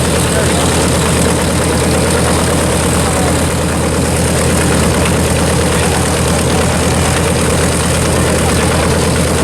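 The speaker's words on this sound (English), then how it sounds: "See if they get the other propeller." At an airport display, a World War II propeller aircraft's engine runs at idle, a loud, steady, low-pitched drone with propeller chop that continues unbroken throughout.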